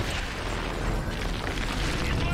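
Continuous, dense rumbling blasts from the video game Crysis 3 roll on without pause, a loud broadband wash of booming explosions that fills the whole stretch with no clear gaps.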